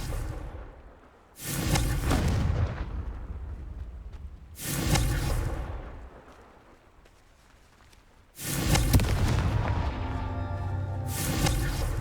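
Confringo fire spell in the Hogwarts Legacy video game, cast in ruins: three loud, booming blasts with sharp onsets, each rumbling on for a couple of seconds before decaying.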